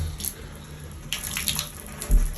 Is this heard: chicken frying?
no